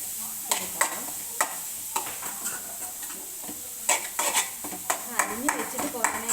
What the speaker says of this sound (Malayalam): ഞാൻ എല്ലാം കൂടെ ഒന്ന് ഇളക്കി ആ എണ്ണ എല്ലാത്തേലും ഒന്ന് പിടിക്കാൻ വേണ്ടിയിട്ടാണ്